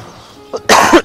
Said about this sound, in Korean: 갑자기 기침이 나서.